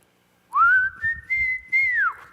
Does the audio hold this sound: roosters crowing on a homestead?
no